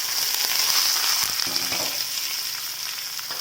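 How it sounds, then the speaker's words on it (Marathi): Sliced onions frying in hot oil with crackled mustard seeds, cumin and curry leaves, giving a close, loud, continuous sizzle with a few soft scraping stirs and no voices. "सगळं आता आपल्याला तेलात छानपैकी भाजून घ्यायचं"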